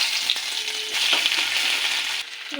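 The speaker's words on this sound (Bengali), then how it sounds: "তো ফোড়ন হয়ে গেছে দিয়ে দেবো আদা" Ginger hits hot tempering oil in a pan and sets off a loud, close, bright sizzle that crackles for about two seconds and then cuts off abruptly, with no speech.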